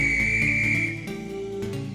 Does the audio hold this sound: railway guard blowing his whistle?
yes